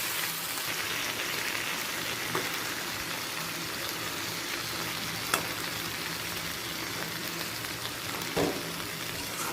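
Mixed vegetables fry in a pan with a little water, a steady close crackling sizzle throughout with a few faint clinks of stirring, no voices.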